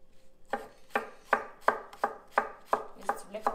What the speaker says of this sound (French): Et si tu voulais qu'on te regarde couper ton oignon vert